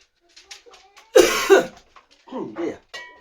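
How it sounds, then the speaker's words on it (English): A single sharp cough bursts out, close and loud, between stretches of quiet talking. "Oh dear, cough."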